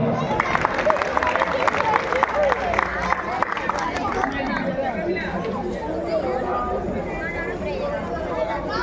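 Audience at a Ramleela stage performance of the Ramayana claps steadily in a sustained burst of applause, mixed with crowd chatter and murmuring throughout.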